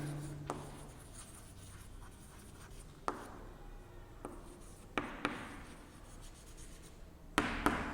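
A roster form is written by hand during a class 11 maths lesson, with soft steady scratching and occasional sharp taps of a pen on paper, close up and quiet, with no talking.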